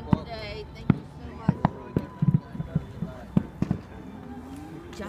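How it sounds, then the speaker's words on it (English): Fireworks bursting at Delgrosso Park in Pennsylvania, heard as a series of sharp, irregular bangs and pops at middle distance, with people talking and crowd chatter in between. "You enjoyed the fireworks"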